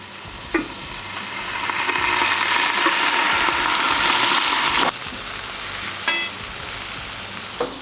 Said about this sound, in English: Now that we're starting to get those onions good and tender